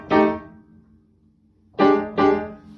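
Piano comping in a detached, unconnected eighth-note rhythm that doesn't swing: one short chord, a pause, then two quick separate chord stabs, clear and close with no talking.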